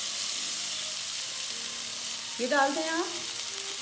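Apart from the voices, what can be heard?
sliced onions frying in hot oil in a pan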